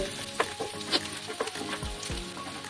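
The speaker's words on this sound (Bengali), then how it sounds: "পেঁয়াজগুলো আরো কিছুক্ষণ এইভাবে ভাজবো" Onions frying in oil in a pan, cooking for a fish tel-jhal, giving a quiet, steady sizzle with a few utensil clinks and light scraping strokes, with no talking.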